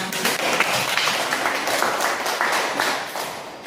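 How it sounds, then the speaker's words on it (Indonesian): Classroom applause during a teacher-training practice lesson, a steady dense patter of many hands clapping close by for several seconds before stopping abruptly. "Oke, tepuk tangan"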